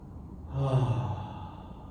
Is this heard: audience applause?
no